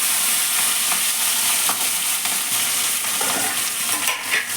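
Fenugreek seeds crackle and sizzle in hot oil in a pan for a rock-fish curry tempering, a close, continuous frying hiss with light stirring scrapes and pops throughout.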